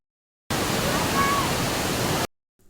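Areekkal waterfall pours down in a steady, dense roar of rushing water, loud and close, holding constant for under two seconds between silent gaps.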